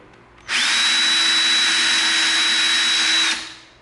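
A power drill bores holes into EVA foam for a pair of brass dowels, whining at a steady high pitch for about three seconds, close and loud, with no talking.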